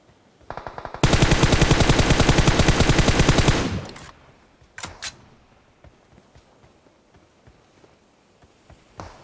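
Automatic gunfire in PUBG Mobile rattles out as a rapid, loud burst of evenly spaced shots lasting nearly three seconds, followed by a couple of sharp single shots and quieter scattered noises.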